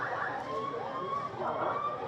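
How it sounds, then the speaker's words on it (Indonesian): An ambulance siren wails steadily at a distance, a faint rising and falling tone over low background rumble as the vehicle arrives. "ini ambulannya udah datang nih"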